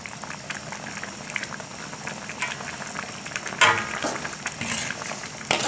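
Mee bandung broth bubbling in a pot on the stove, a continuous close burble and crackle of boiling liquid with occasional louder gurgling bursts, no talk.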